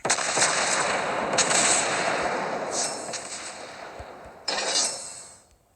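Battleship guns firing in World of Warships Blitz aboard the German battlecruiser Prinz Eitel Friedrich, a loud booming salvo followed by further sharp blasts and rumbling decay, with no talk over it.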